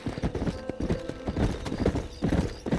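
Horse hooves gallop in the video game Red Dead Redemption, a rapid, steady clip-clop rhythm close by, with game ambience underneath.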